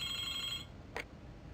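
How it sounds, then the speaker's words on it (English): A telephone rings inside the Broken Sword video game: a bright, steady electronic ring lasting just over half a second, then a brief soft click after a pause, with no voices. "Why is the telephone ringing"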